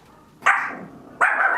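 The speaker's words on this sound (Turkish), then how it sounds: "Bu arada köpek seslerini de duyuyorsunuz." Two small dogs bark indoors, two sharp yapping bursts about a second apart, close and loud with no talk.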